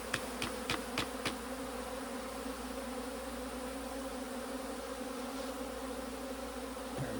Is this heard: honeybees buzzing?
yes